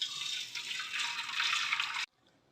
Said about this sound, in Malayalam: തിളപ്പിച്ച് വെച്ച പാലിൽ നിന്ന് ഒരു പകുതി പാല് നമ്മുടെ ഈ ഉരുളിക്കകത്തോട്ട് ഒഴിക്കാം.